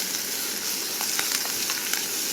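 Steady sizzling of mustard seeds, curry leaves, onions and green chillies frying in hot oil, a continuous crackling hiss with small pops scattered throughout.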